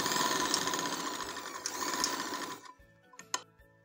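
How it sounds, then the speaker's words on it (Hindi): A sewing machine stitches elastic onto capri pants with a fast, even mechanical whir that runs for over two seconds, then stops, followed by a few short clicks and taps. "अब ये एंड की सिलाई है, इसको लगा के फिर आपको रख दिया।"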